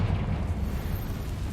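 A Confringo spell explosion in Hogwarts Legacy booms as a short, heavy, rumbling blast, loud and close, its low roar filling the whole moment.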